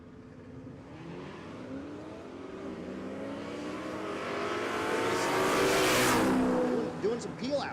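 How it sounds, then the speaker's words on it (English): A naturally aspirated small-block drag racer does peel outs at a drag strip, its engine rising into a loud, swelling roar with spinning tires that peaks and then drops off, under a commentator's talk. "Doing some peel outs."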